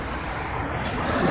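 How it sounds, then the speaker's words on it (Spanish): A car on a foggy highway, heard as a steady, broadband road rumble of traffic with no distinct pass-by, continuous and fairly loud throughout. "Mira ese carro que viene ahí solito."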